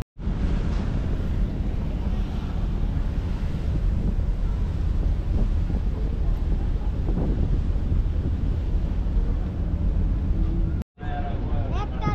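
Loud, continuous wind roars and buffets across the deck of a river launch on the Munshiganj to Dhaka route, with a muffled rumble beneath and a brief dropout near the end.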